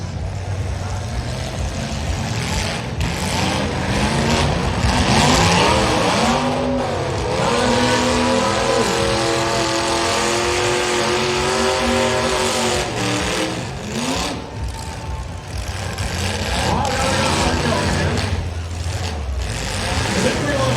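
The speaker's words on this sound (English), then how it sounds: "Almost got him pushed off, almost. Help a friend push him off the tires." Full-size cars at a demolition derby in Salmon Arm, engines revving and straining as one pushes a hung-up station wagon off the tires, with loud continuous motor roar, crowd noise and an announcer talking throughout.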